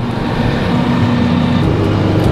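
A short wheelbase tractor spreading slurry with a muck spreader, its engine a loud, steady, close drone with a low hum that carries straight through without a break.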